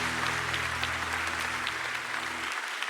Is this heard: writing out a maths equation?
no